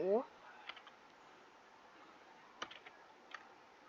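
A computer keyboard is typed on quietly in a few sparse, close clicks after a brief voice at the start.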